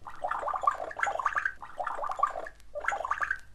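A voice imitates pouring a drink from an uncorked bottle with a wet, gurgling, gargle-like sound, repeated in four bursts separated by short pauses, close and clear with no talking over it.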